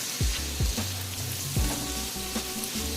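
Vegetables and onion powder sizzling in a pan as they are stirred, a moderate continuous hiss broken by several low scraping sweeps of a utensil, close and without talk.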